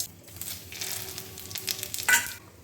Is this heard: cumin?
yes